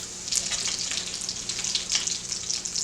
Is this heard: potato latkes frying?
yes